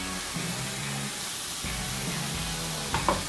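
A burger bun for a homemade pizza burger searing in butter in a hot pan, a soft steady sizzle under light background music, with a brief clink near the end.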